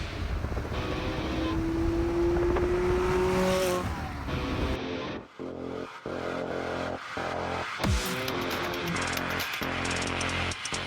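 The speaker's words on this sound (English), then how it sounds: "It's a 2020 McLaren 600 LT." A 2020 McLaren 600LT sports car drives close by with a loud engine, a rising whine and a brief tire squeal, then settles into a steady drone broken by regular pulses.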